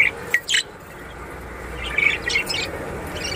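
Budgerigars in a breeding cage, where a hen sits on eggs in a clay pot nest, give short, bright chirps in a few quick clusters over a steady background hiss.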